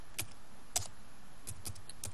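Typing at a computer keyboard during a CentOS 5 rescue-mode boot, a handful of close, crisp key clicks in an uneven rhythm against a quiet background, with no talking.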